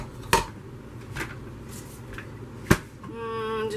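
Cucumber sliced on an Oxo V-Blade mandoline slicer gives a few sharp, separate clacks and scrapes, with quieter handling noise between them and a faint tonal whir near the end.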